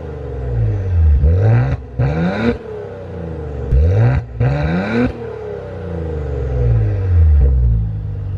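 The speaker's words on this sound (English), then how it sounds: "since we're talking about exhaust, we probably should just get a couple of blips" A 2020 Maserati Levante GranLusso SUV engine revs hard through its exhaust in two pairs of sharp blips, each rising and dropping back to a deep, rumbling idle between them.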